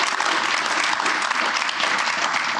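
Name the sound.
audience applause for panelists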